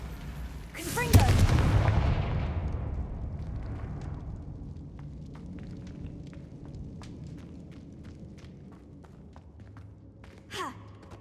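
A fiery Confringo spell explosion in the Hogwarts Legacy video game bursts loudly near the start, its roar slowly fading over several seconds into low rumbling game ambience, with a small second burst near the end.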